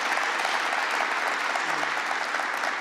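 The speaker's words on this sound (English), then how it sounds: "let's make sure we give a round of applause for Maureen as well." Steady audience applause at a New York governor's green jobs announcement on Long Island, a dense, even wash of clapping at full level with no talk over it.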